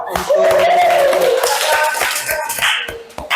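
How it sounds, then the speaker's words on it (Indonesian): Classroom clapping, brief scattered claps from students mixed with excited voices and a rising shout, close and loud. "Oke, kasih tepuk tangan dong."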